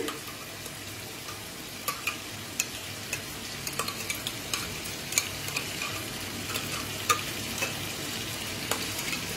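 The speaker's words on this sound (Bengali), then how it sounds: "এখন পেস্ট করা এই মশলাটাকে দিয়ে দিচ্ছি।" A paste of onion, ginger, garlic and green chilli fries in a pan for Chicken Mumtaz, a continuous close sizzle with soft spatters and occasional stirring clicks, with no talk.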